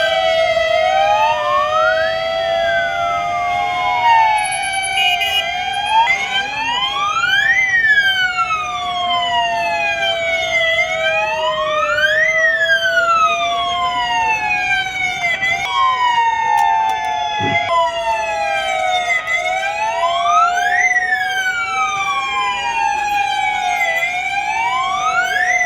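Several emergency sirens wail together in Gwalior for a blackout alert, overlapping rising-and-falling tones sweeping steadily and loudly, one after another, with no talk over them.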